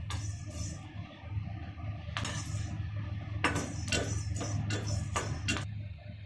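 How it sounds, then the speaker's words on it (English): Black pepper crackling as it dry roasts in a hot pan for a spiced coffee, with sharp irregular pops and clicks, some in quick clusters, over a low steady stove hum, close and fairly quiet. "See, you can hear the sound. Some of the black pepper cracks."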